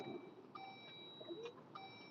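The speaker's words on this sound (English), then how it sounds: "Sorry about the beeping." Faint, thin electronic beeps sound indoors, a few short tones spaced roughly a second apart, over a quiet room with low background noise and no talking.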